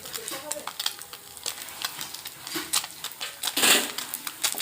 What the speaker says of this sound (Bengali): আবারও আমি দিয়ে দেব মাছ, এইভাবে ভেজে নেব।